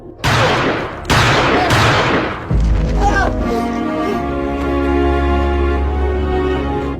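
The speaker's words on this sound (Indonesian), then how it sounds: "Tidak lama kemudian terdengar suara tembakan" Gunshots in a film's violent fight scene: three loud, sharp blasts in quick succession, followed by a lower rumbling, ringing aftermath.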